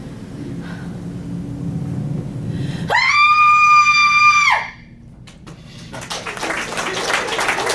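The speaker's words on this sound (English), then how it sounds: "let's hear that scream" A woman lets out one long, loud, sustained scream in a horror film, cutting off sharply after about two seconds, with a low murmur before it and a rumbling noise after.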